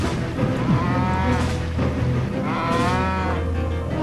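Cattle lowing in a series of loud, close moos, two long drawn-out calls with a shorter one between, set against a steady low rumble.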